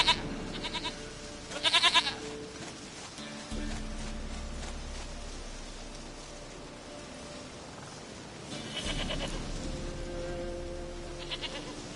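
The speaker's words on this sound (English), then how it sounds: "Goat of mine, dearest," A goat in The Witcher III bleats in several short wavering calls over a steady ambient game background of rustling and low hum, fairly faint and without speech.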